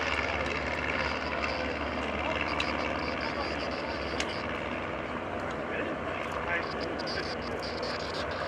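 An L-Bird light propeller aircraft taxis back to the parking area after an engine-instrument concern, its engine drone steady and continuous throughout with a commentator's voice over it.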